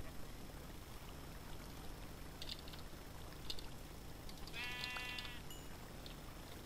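Sheep bleat faintly in the Feed the Beast video game, one wavering call standing out over quiet ambient game noise.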